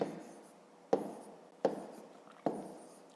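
Pen strokes on paper while numbers are written out for a long-division exercise in a 5th-grade maths lesson: four short scratchy bursts, close and quiet, with no talking.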